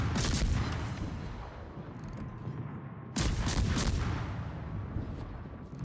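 Heavy naval gunfire from warships in a naval combat video game, with booming salvos at the start and a second loud blast near the middle, each trailing off into rumbling echoes and mechanical creaks.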